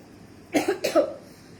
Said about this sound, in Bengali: খুশখুশি যে কাশিটা আপু, ওই কাশিটা হচ্ছে খুব